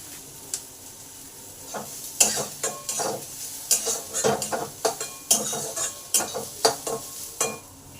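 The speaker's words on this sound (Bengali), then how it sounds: "এবার পেঁয়াজটাকে দিয়ে দিলাম পেঁয়াজটা ভালো করে ভেজে নেব লাল লাল করে" Onions sizzle in a pan while a utensil stirs and scrapes against the metal in irregular clatters.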